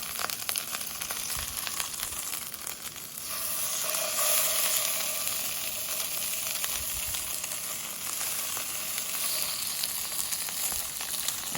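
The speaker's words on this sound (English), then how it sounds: "just put a little bit of oil in the pan, and I'm going to start skin side down" Fish fillets frying skin side down in a little oil in a pan, a steady close sizzle and hiss that swells slightly as the pieces settle, with no voices.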